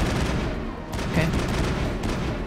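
Sniper rifle fire in the Mass Effect video game, dense gunfire and booming shots crackling continuously through a busy battle mix, loud and close throughout.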